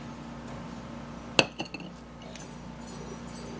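Teaspoon clinking while measuring olive oil, one sharp metallic tap followed by a couple of softer clinks, close by against a low steady background hum.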